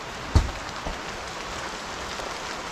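Steady rain falls in a continuous hiss, with a couple of brief thumps early on and no talking.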